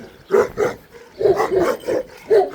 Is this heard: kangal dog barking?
yes